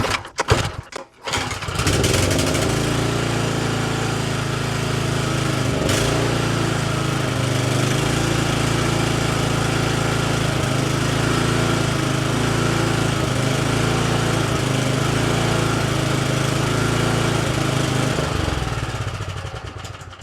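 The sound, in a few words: Exmark commercial lawn mower engine running and surging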